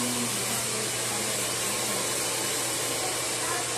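A red hair blower runs steadily while hair is being dried before a cut, a loud continuous whooshing drone with a faint motor hum that holds unbroken throughout.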